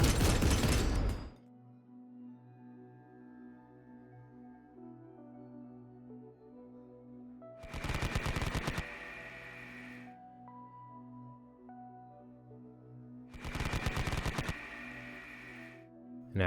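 A Kodiak Walker autocannon in Konflikt '47 fires in three separate short, loud bursts of rapid rattling shots, spaced several seconds apart with quiet tonal background music between them.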